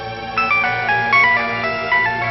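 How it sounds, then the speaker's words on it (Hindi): A phone rings with a bright, repeating electronic melody, loud and close, for a call from an agent. "एजेंट का फोन।"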